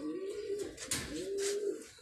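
A large adult male pigeon, about six or seven years old and kept by a fancier, coos nearby in two drawn-out, throaty phrases with a short pause between them.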